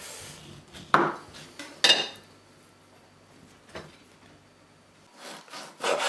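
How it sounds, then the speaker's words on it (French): A knife saws through bacon lardons on a board in a few separate, close rasping strokes, with quiet gaps between them and no talking. "On découpe des petits lardons aussi fins que possible"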